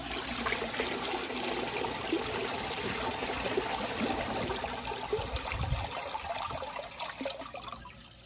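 A 2002 Sanitarios Maracay toilet flushes a washcloth, giving a continuous close rush and gurgle of water that trickles off toward the end.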